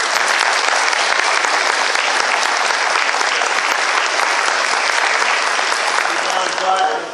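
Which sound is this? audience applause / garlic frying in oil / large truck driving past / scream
audience applause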